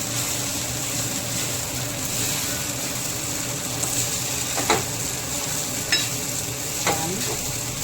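Flattened rice poha with onion, turmeric and coriander powder stirred in a hot pan, giving a steady close sizzle with a few sharp scraping knocks of the spoon against the metal, and no talking.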